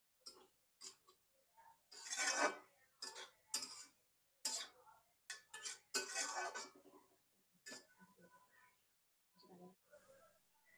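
Chopped cabbage tumbles into a pan of onion, garlic and ginger for veg momo filling, then gets stirred with several sharp utensil scrapes and clatters in bursts, some close and loud, with quieter gaps between.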